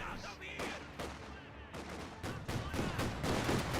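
Sustained MG42 machine gun bursts in Company of Heroes 2, with rapid overlapping gunfire in a battle scene. The fire is loud and nearly continuous, surging in repeated volleys and growing heavier toward the end.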